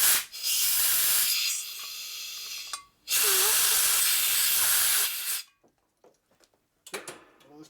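Compressed air from an air line blasts through an oil passage in a 1946 Harley-Davidson Knucklehead engine, an 84ci stroker rebuild: two loud, close, steady hissing bursts of a few seconds each, followed by a few faint clicks and handling noises.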